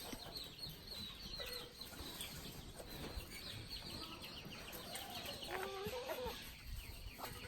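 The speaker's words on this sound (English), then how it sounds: "them chickens will be here in a little while and they will clean all that up" Homestead chickens cluck and squawk near a pen, with several birds calling over a constant hiss of outdoor ambience. The sound is faint and somewhat distant, with a clearer rising call toward the end.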